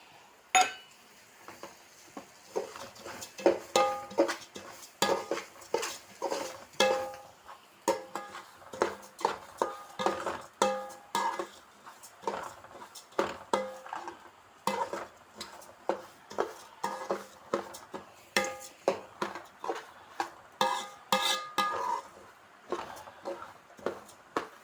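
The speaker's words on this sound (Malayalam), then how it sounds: "ഇതിലേക്ക് ചതച്ച് വെച്ച കാറാമ്പൂ, പട്ട, ഏലക്കായ് എല്ലാം ഇടണം" Crushed cloves, cinnamon and cardamom are added to a cooking pot, giving a long run of light clinks and taps of metal utensils against the pot, irregular and close, with no talking.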